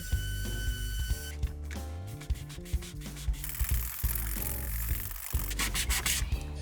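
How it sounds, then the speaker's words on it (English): A power sander whirs and rasps steadily against car body filler, its motor hum shifting slightly in pitch as it works, close and continuous with no talking. "It needs a little bit more vigorous sanding, so I'm going to use my sander just for speed."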